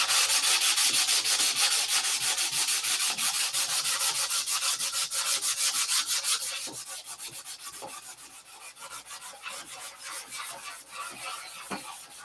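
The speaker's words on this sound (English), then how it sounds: "Put it on and sand it off." Continuous near, steady rubbing and sanding on a wooden canopy finish molding, dense rhythmic strokes with one coat going on and sanded off, loud at first and easing somewhat in the second half, with no voices.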